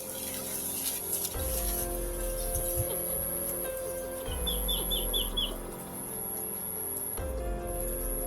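A bird calls in a short run of quick high chirps outdoors, set against a steady background of flowing water and insect hum, with low rumbling thumps at intervals.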